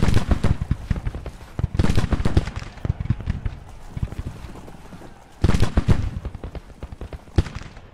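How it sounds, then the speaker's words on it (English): Volleys of artillery and musket fire at the Battle of Chickamauga in Grand Tactician: The Civil War, with dense crackling rifle bursts and heavy booms clustering in loud waves, easing off, then surging again near the end. "we can start firing with the arty here too"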